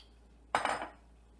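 One cup of cooked macaroni tipped into a pan of Portuguese tuna and tomato, making a single short, close clattering scrape against the cookware that fades within about half a second, with no talking.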